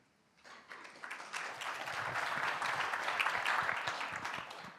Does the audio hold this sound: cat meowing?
no